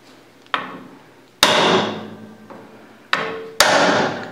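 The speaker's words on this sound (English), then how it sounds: "But the I'm using the solid brass lump hammer for this." Solid brass lump hammer striking metal while loosening a part on a South Bend 10K lathe under restoration: four sharp ringing blows at uneven intervals, close and loud, each followed by a short metallic decay.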